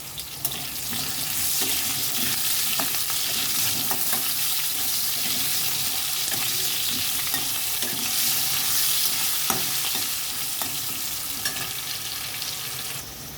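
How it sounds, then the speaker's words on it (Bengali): Thick-cut potatoes fry in a pan with a dense, loud sizzle, broken by clinks and scrapes of stirring, close and steady throughout. "দেখুন বন্ধুরা, আলুটা আমার অনেকটা ভাজা হয়ে এসছে।"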